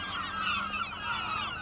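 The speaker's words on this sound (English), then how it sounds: "All the birds have taken off now. Making a right bloody racket." A flock of geese honks loudly and continuously as the birds take off near a bridge, dense overlapping calls close by with no talk.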